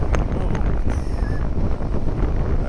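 Rushing wind buffets the microphone while riding a Yamaha Tenere 700 motorcycle on dirt roads, a loud, gusty low roar with brief flutters, steady throughout.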